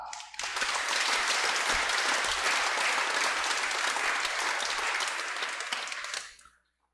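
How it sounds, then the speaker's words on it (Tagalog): A church congregation applauds loudly during a Mass, a full, sustained wave of clapping that swells quickly and holds for about six seconds before cutting off. "parinig nga natin sa Panginoon ng mas malakas na palakpak"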